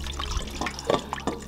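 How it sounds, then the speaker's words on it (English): Water poured into a cooking pot for a paste-based dish in Ghana, short splashing and gurgling bursts, close and fairly loud, with no talk. "then I'll add in water."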